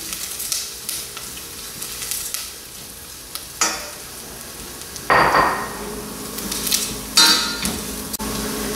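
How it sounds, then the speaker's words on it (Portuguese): Risotto rice being stirred into melted butter in a pan, with close, loud sizzling and frying that swells when the rice goes in, plus scraping strokes of the spoon and occasional knocks against the pan. "Eu vou acrescentar o arroz e vou envolvê-lo na manteiga."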